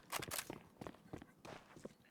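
A player's running footsteps in a competitive online video game match: a quick series of distinct, fairly faint steps in an uneven rhythm, heard alone.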